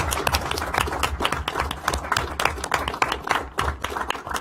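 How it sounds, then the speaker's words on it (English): Audience applause at a National Space Council meeting, a dense wash of clapping that holds steady for the full stretch with a few sharper individual claps standing out. "let's give these two a round of applause"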